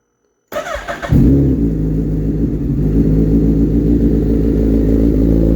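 A 2022 third-generation Suzuki Hayabusa motorcycle with a full Brocks alien head aftermarket exhaust cranks briefly and fires up, settling into a loud, deep, rumbling idle close by.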